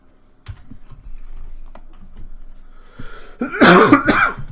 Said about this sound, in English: Ooh, nice cough.